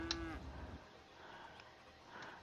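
Cows lowing at an animal farm in the Cities: Skylines city-building game, one short moo at the start, then a soft ambient farm background.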